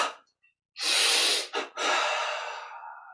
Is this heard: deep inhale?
yes